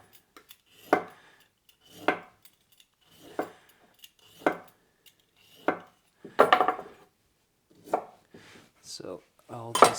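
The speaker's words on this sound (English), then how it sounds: "Then I'm gonna cut this in half." A knife chops through a vegetable on a cutting board while prepping hutspot, with sharp, evenly spaced thunks roughly once a second, close and crisp against a quiet kitchen.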